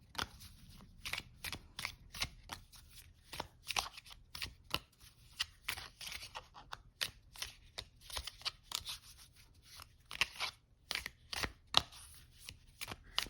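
Lenormand cards being shuffled overhand, a rapid run of crisp papery slaps and flicks in an uneven rhythm, close up and alone.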